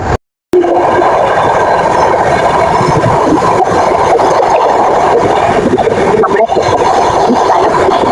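A train runs steadily as it nears a railway station in Maharashtra, a continuous loud rumble and rattle filling the clip after a brief silent gap at the start.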